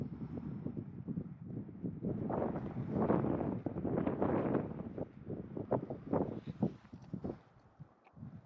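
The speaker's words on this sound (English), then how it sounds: "The wind is cold, however." Cold wind gusts across a lake with a sliver of ice, buffeting the microphone in uneven rushes and thuds that swell and fade, fairly faint, with no talking.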